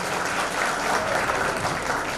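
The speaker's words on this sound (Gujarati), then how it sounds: "આપણે જોરદાર તાળીથી સ્વાગત કરશું." A crowd gives a loud, sustained round of welcoming applause, dense and continuous with no voices cutting through.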